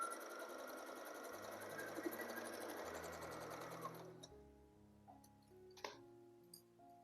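A sewing machine stitching the sides of a latkan tassel, a close, fast continuous whirring chatter that runs for about four seconds and then stops, followed by a few faint clicks and taps.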